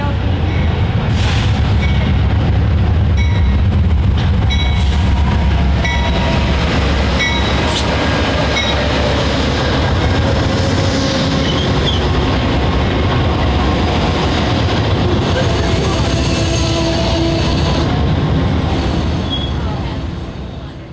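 An Amtrak Michigan line passenger train pulled by two P42DC diesel locomotives rumbles steadily along the rails, with a loud continuous low roar and faint wheel clatter throughout, fading slightly at the end.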